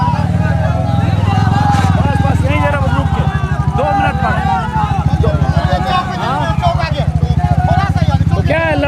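Motorcycles ridden in an election campaign in Jokihat produce a close, loud, steady engine drone with a rhythmic throb. Several people talk over the engine throughout.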